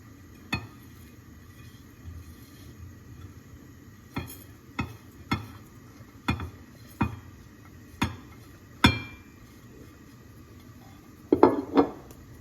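Spices tipped one spoonful at a time onto a plate for achari daal, each drop a sharp clink of metal on the dish, about a dozen separate taps spaced irregularly, with a quick cluster near the end, close and fairly quiet.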